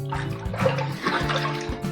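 Cold tap water runs and splashes as a face is rinsed after a shave, a continuous watery wash with uneven splashy bursts, close and fairly loud.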